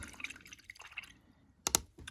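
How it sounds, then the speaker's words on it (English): A paintbrush is rinsed in a water cup while painting a miniature model, with soft irregular sloshes and clinks of the bristles against the container, then a couple of sharp taps near the end, close and quiet. "Clean my brush a bit."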